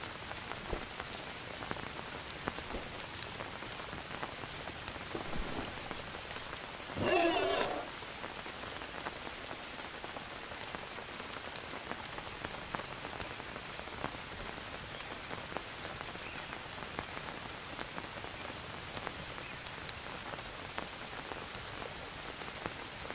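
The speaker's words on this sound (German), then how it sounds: "Also den Regen dürften sie gern nochmal anpassen." Steady rain falls in the survival game Green Hell, a dense continuous patter of drops on surfaces lasting throughout, with a brief louder burst of another sound partway through.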